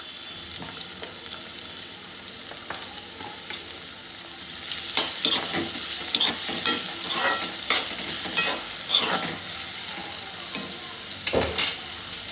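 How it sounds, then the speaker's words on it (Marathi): Finely chopped onion fries in hot oil over a high gas flame, a steady loud sizzle with scraping stir strokes and clinks of a spoon against the pan, growing busier toward the end. "आता मोठा गॅस करते आणि त्याच्यामध्ये हा बारीक केलेला कांदा टाकते।"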